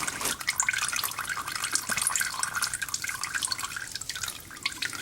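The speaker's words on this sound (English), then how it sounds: "Got some oil coming now. Adjust my pan a little bit more here." Engine oil drains from the sump of a 2010 Toyota Highlander into a drain pan, a steady close trickle and dribble of liquid running continuously without talk.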